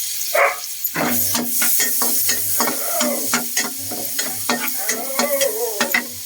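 Onion sautés in a pan for lumpiang ubod, a steady close sizzle broken by frequent rhythmic spatula scrapes and taps against the pan.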